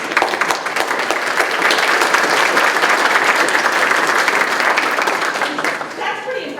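An audience at a Christmas choral concert gives sustained, loud applause, dense clapping that swells and holds before tapering off at the end.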